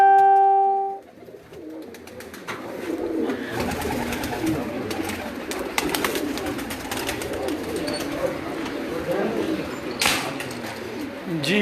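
Several pigeons coo steadily inside a rooftop loft room, a busy, continuous low murmur. A brief tone sounds at the start and some faint rustling and clatter run throughout.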